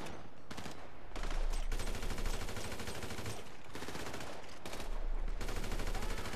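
Rapid gunfire in GTA Online plays as automatic bursts, dense and fairly loud, broken by short pauses, with no talking.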